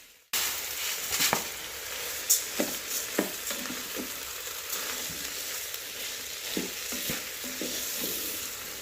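Rice sautés with softened vegetables and tomatoes in a Ninja Foodi pressure cooker, a steady low sizzle broken by a series of spatula scrapes and knocks as it gets stirred around.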